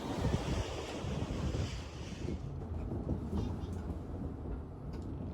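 Heavy seas and strong wind on the open South Pacific while sailing toward Tonga, with a steady wash of breaking waves and roaring gusts buffeting the microphone, loud and continuous throughout with no talk.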